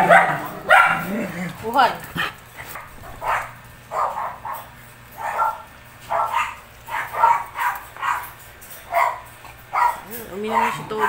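A dog near a stainless steel pet drinking fountain gives repeated short yips and barks at close range, mixed with whimpers, while a person talks over them.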